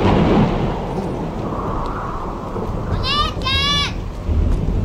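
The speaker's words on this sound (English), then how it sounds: "It's raining pretty hard." Heavy rain roars steadily through a horror video game scene, with a dense low rumble that may be thunder, while brief high whistling or squealing calls break through near the end.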